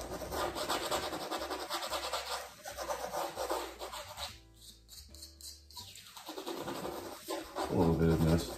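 A palette knife rubs white oil paint onto a black canvas in short, scratchy strokes, close and fairly quiet, with a brief pause midway and soft rasping continuing afterward.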